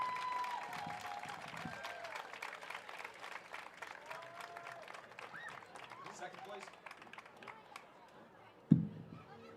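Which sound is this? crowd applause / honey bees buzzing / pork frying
crowd applause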